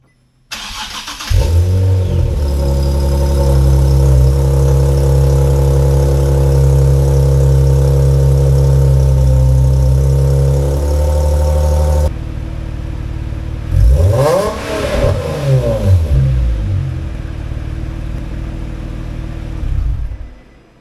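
A car with a new clutch and a deleted concentric slave cylinder cranks and fires up, then idles loud and close. Several sharp revs follow before it settles back to idle and shuts off.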